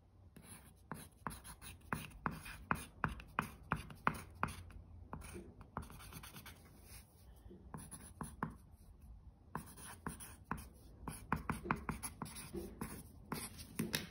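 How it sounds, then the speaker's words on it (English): Scissors snip through leggings fabric to turn them into shorts, a quiet run of close, crisp cuts in quick rhythmic bursts with brief pauses between. "what did we use to cut the leggings? Scissors."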